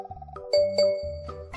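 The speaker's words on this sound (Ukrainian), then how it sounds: "Невже це смс-ка від нього?" A phone chimes with a text message notification, a bright ding-dong tone struck twice in quick succession over a soft repeating electronic melody, clear and close with no voices.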